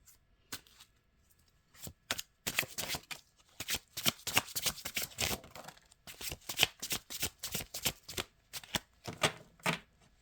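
Tarot cards being shuffled up close in quick bursts of riffling and flicking, with short pauses between rounds and otherwise near-silence.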